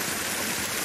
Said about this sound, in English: that's where I put them at, right next to the waterfall